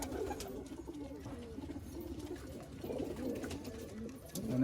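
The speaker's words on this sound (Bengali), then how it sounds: "এই দাদার বাড়ির পায়রা, দেখুন কত সুন্দর পায়রা" Punjabi Malwai pigeons coo softly and repeatedly nearby, a low rolling murmur running through the whole stretch against faint background noise.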